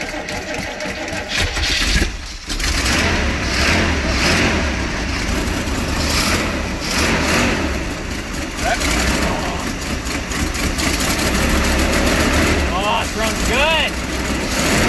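A 1983 King's Highway motor home with a 454 engine runs after a cold start at 22 degrees: a loud, continuous, rumbling idle fills the whole stretch, with voices faintly present underneath.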